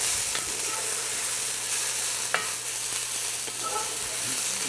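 Garlic and spices fry steadily in a pan for an Indian-style dish, a continuous soft sizzle broken by a few sharp scrapes and taps of the stirring utensil, with no talking.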